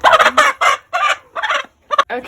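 A hen recovering from injury vocalizes in a run of short, close, loud squawking clucks with brief gaps between them, heard alone without talk.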